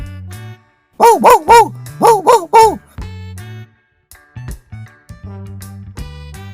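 A cartoon dog barks in a Hindi animated story, two loud close bursts of three sharp barks each, set among background music.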